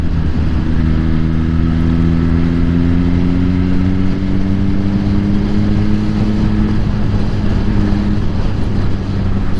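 A motorcycle engine drones steadily during a ride, heard through earplugs as a loud, continuous low rumble with sustained harmonic tones that slowly shift in pitch as the bike holds speed.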